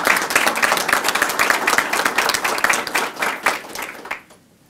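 A room of people claps at a county government announcement of police leadership changes, brisk and close, with distinct hand strikes that thin out and stop near the end.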